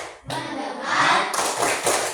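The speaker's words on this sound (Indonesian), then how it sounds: "Coba tepuk fokus." A classroom of students performs a focus clap rhythm, a burst of loud, close group claps and taps sounding alone with no talk.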